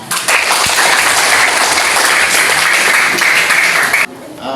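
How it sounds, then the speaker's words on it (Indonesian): Class participants applaud together in a training session, a loud, even burst of many hands clapping that holds steady for about four seconds and then stops abruptly. "Alhamdulillah. Tepuk tangan"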